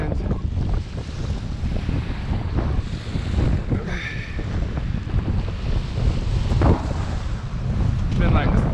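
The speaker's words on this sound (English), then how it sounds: "It's just windy, 25 mile per hour." Strong wind of about 25 mph buffets the microphone while sturgeon fishing, in a steady low roar, with gusts rising and falling throughout and faint water noise beneath.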